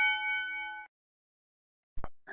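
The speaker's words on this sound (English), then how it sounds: "there's the bell" A single bell rings out with a clear, sustained metallic tone that stops abruptly, followed by silence and then a brief knock and a short burst of rustling noise.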